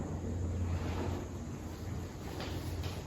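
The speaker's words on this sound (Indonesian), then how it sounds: "Suara latar ombak, angin," Steady ocean waves and gusting wind form a continuous, moderately loud wash of broadband noise with a low rumble, unbroken for the whole stretch and with no voices over it.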